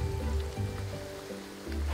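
Rain falling in the video game Graveyard Keeper gives a soft, steady patter and hiss under low rumbling game ambience, faint and continuous throughout.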